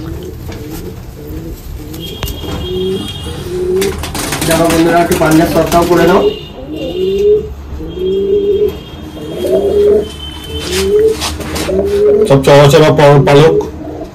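Pure Fulsia pigeons cooing repeatedly in a steady rolling rhythm, close and fairly loud, with someone talking over them throughout and some clicking handling noise.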